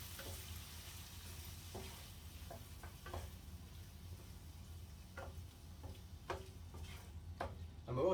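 Rabbit stew for Maltese stuffat tal-fenek being stirred in a pan, with a low steady sizzle of frying underneath and sporadic soft scrapes and taps of the spoon against the pan, fairly quiet throughout.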